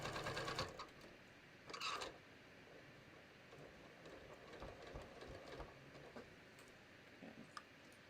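A sewing machine stitches a raglan sleeve top in a quick, steady mechanical whir. Short louder bursts open the run before it settles into a softer, continuous hum.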